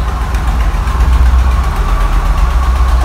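A Ford Scorpio engine idles steadily after a fuel pump replacement, a loud, continuous low rumble with an even throb and no voices over it.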